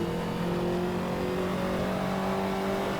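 Ferrari 288 GTO engine in the Assetto Corsa video game, a loud continuous turbocharged drone with steady rising tones as boost builds, close and without talk.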